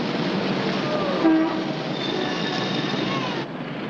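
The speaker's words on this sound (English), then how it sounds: "For 2 dimes, you can get in the subway and ride all night." A subway train runs along the rails in a 1953 film-noir scene, a steady mid-level rumble with a brief horn-like tone near the middle and faint high squeals.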